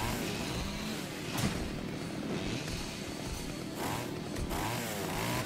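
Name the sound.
chainsaw fight in the video game Splatterhouse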